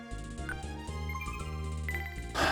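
Shop theme from the Super Nintendo game Brandish, a crisp synthesized tune with steady bass notes and bright melodic chimes, playing continuously at moderate volume with a brief noisy burst at the end.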